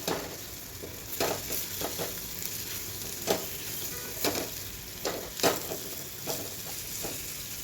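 Finely chopped jackfruit is sautéed in a pan, with a soft, steady sizzle under repeated spatula scrapes and stirs every second or so, close and fairly quiet.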